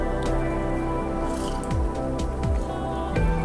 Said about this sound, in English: because I'm dropping the very hot ball in cold water